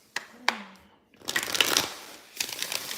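A deck of playing cards being shuffled, with a couple of quick riffles and a longer burst of rustling, close and moderately loud.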